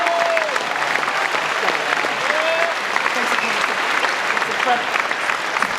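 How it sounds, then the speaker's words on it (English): An audience at a live talk gives a dense, steady round of applause that lasts throughout, with faint voices mixed into the clapping. "Let's clap it up for this pioneer."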